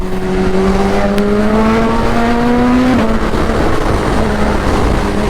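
A 2021 Hayabusa motorcycle racing a BMW in a drag race: a loud, steady engine roar with a rising whine that climbs through the gears, shifts pitch, then holds a sustained high drone.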